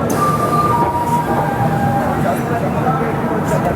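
Steady, loud railway rumble at a station platform where the Ahmedabad–Darbhanga Special stands at platform 7, with a thin high metallic whine through the first two seconds and a faint murmur of voices underneath.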